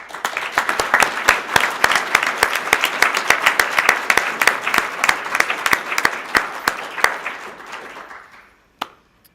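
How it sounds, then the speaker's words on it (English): A luncheon audience at a chamber of commerce annual review gives a big round of applause, many hands clapping in a loud, dense stretch that thins out to a few final claps near the end. "Please join me for a big round of applause."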